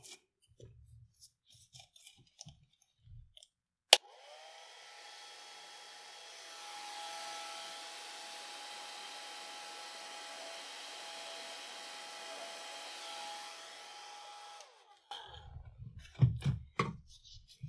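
Hair dryer drying a watercolor painting of a lamb, switched on with a click and blowing as a steady close whoosh with a whine for about eleven seconds, then cut off, with brief handling noises before and after.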